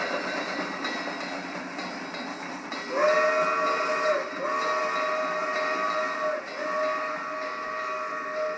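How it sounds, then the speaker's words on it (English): A steam train recording plays from an old Columbia stereo-era phonograph record: steady hissing rail and wagon rumble with a sustained steam whistle entering partway through and holding several seconds, moderately loud with no voices. "that Columbia record, which I'm playing in the background, has a sound of a steam train on it"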